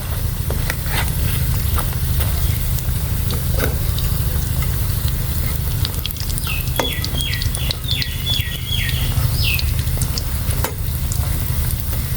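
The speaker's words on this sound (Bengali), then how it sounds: "পিঠাগুলো আমি একটু গরম করে ভাইয়ের জন্য নেব" Flour pitha cakes heating in a pan, with a loud, steady sizzle and crackle throughout, some scattered taps, and a bird chirping briefly in the background partway through.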